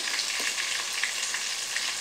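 Rohu fish pieces frying in a pan, a steady, dense sizzle of hot oil with faint crackles and spits throughout, close up and alone with no talk.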